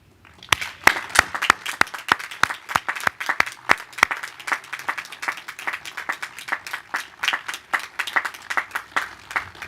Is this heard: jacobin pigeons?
no